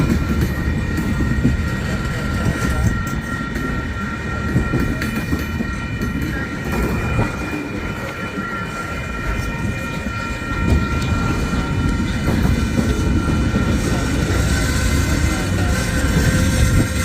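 A Union Pacific freight train led by locomotive #7337 with three end DPUs passes close by, a loud, steady rumble of rolling wagons and clattering wheels filling the whole stretch without letup.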